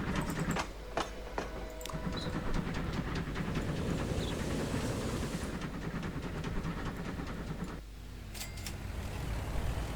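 A train in the video game Transport Fever 2 rumbles along steadily with rhythmic clicking and clattering from the wheels, a continuous mechanical drone with occasional sharper clacks.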